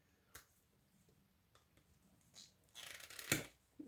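Wire cutters snip through scrap brass, copper and aluminium wire: a quiet, close cut early on, then a louder, sharper snap after some rustling handling noise, with no talk.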